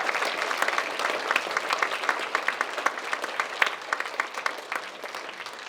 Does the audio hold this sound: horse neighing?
no